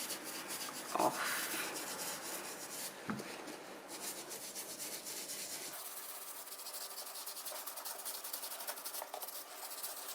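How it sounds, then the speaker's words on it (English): Dirty trainers with grass stains are scrubbed using The Pink Stuff cleaner, giving a steady, close rubbing scrape that runs continuously with a brief knock partway through. "hopefully a bit more effort on the scrubbing, we can get the grass stain"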